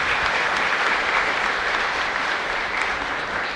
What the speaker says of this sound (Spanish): Bueno, un fuerte aplauso entonces.